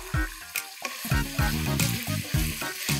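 Chicken pieces and the white part of spring onion frying in a pan, giving a steady sizzle with repeated stirring scrapes and clatter, close and moderately loud, with a tonal background underneath.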